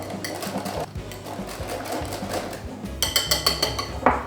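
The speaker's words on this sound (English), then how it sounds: "we can just pick up the pace with our whisking to make sure there are no lumps" Plant-based chocolate lava cake batter whisked briskly in a bowl, a rapid run of scraping clicks that grows sharper and more rhythmic toward the end.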